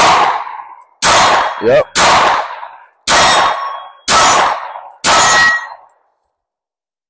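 Six Glock 19 pistol shots ring out about a second apart, each a sharp crack with a bright metallic clang off a steel target that decays quickly, followed by silence. Someone briefly says a word between shots.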